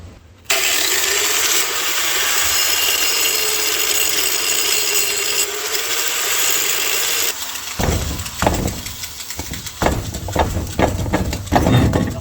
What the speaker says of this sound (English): we got to grind a little bit more.